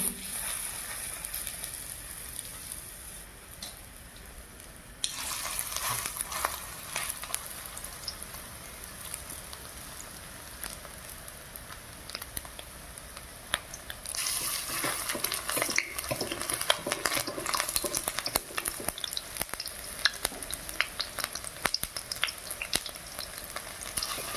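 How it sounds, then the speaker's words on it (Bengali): Morola fish pitha dropped piece by piece into hot oil, a crackling sizzle that jumps louder as each batch goes in, with fine popping spatters throughout and no voices. "তেল গরম হয়ে গেছে, এবারে মেখে রাখা মাছের পিঠা একে একে এইভাবে বসিয়ে দেব।"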